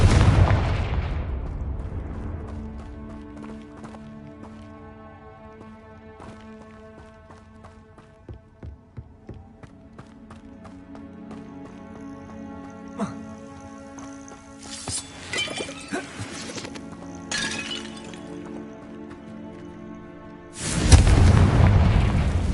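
Confringo spell explosions in Hogwarts Legacy, the video game: a strong booming blast opens, a cluster of crackling bursts follows later, and a final heavy explosion lands at the end, all over a continuous game soundtrack.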